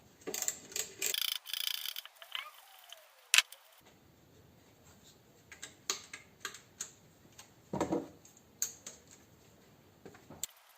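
A multi-point 8 mm wrench works the intake manifold bolts on a SEAT Ibiza, giving faint scattered metallic ticks and ratcheting clicks with a couple of louder clanks, close but quiet.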